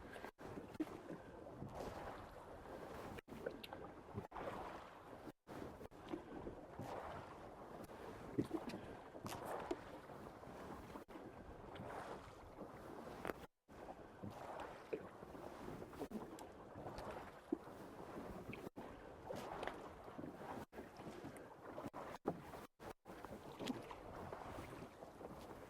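A rowing boat pulls back into harbour in steady, continuous outdoor noise of water and wind across the hull, with no distinct individual oar strokes standing out.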